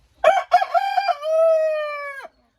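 A rooster crows once nearby, loud and clear: two short choppy notes and then a long sustained drawn-out call that cuts off abruptly, with no other sounds around it.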